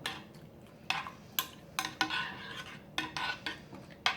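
A spoon stirs milk, mushrooms, flour and basil together in a bowl for microwave cooking, making soft scraping swirls punctuated by sharp clinks against the dish at an uneven pace, close and quiet with no talk.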